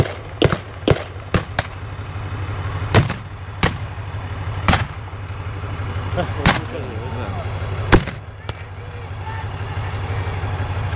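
A mortar fires sharp, heavy reports at irregular intervals, roughly ten blasts over a steady low tank engine rumble, with some voices in the background.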